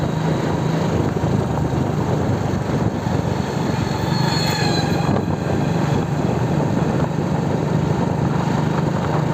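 A motorbike engine hums steadily and loudly throughout while riding along a winding village road in fine weather, with strong wind buffeting and no talk.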